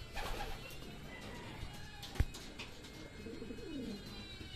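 Racing pigeons at a training release in Rizal cooing softly at a distance under steady outdoor noise, with one sharp click partway through.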